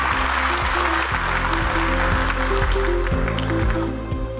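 An expo audience at a regional innovation event applauds a Hyundai Motor team leader walking on stage, the clapping steady and full over a prominent rhythmic low musical beat that runs throughout.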